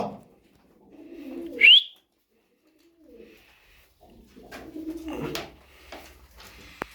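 Young tumbler pigeons cooing in a loft, soft low coos with a brief sharp chirp early on, close by, separated by quiet gaps and a little rustling.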